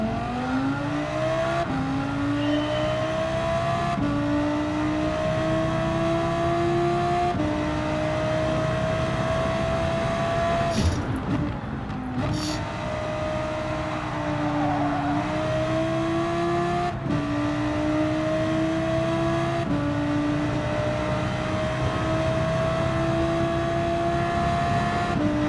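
A race car engine in Gran Turismo 7 drones through repeated upshifts, the pitch rising steadily in each gear before dropping at every change, with a brief burst of noise near the middle, loud and steady with no voices.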